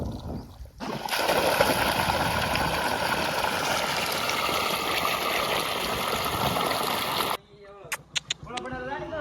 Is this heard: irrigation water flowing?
yes